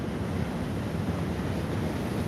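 Ocean waves wash steadily at sea near a boat, a continuous broadband surf rush mixed with wind buffeting the microphone, with no talking.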